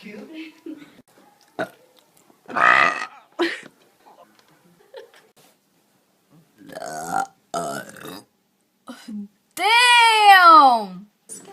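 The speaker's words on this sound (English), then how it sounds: "I'm a girl and I can burp." A girl lets out several burps, from short weak ones to a long, loud, drawn-out belch at the end, separated by silences and brief bits of talk.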